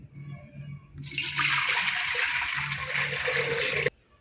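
Water, 1.5 litres, poured into a pressure cooker for mutton soup: a sudden loud continuous gushing splash lasting about three seconds, then cut off abruptly, close by, with low kitchen hum before it.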